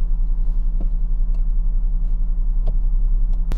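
A 2019 Land Rover Discovery Sd6 heading downhill off-road gives a steady low engine rumble with a constant drone, broken by a few short knocks and clunks from the terrain. There is no talking.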